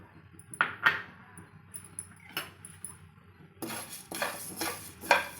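Dry coriander seeds tossed and stirred in a heated kadai, giving close, light scraping and rattling clinks of a spoon against metal, scattered at first, then a denser continuous rustle of seeds sliding and hissing across the pan.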